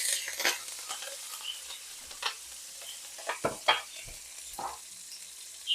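Cumin seeds and asafoetida fry in hot oil with a soft, continuous sizzle, broken by several short scraping stirs that come and go at irregular moments.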